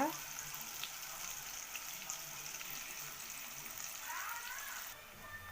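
Plantain slices frying in hot oil on a low flame, giving a steady, faint sizzle with soft crackles throughout and no talking.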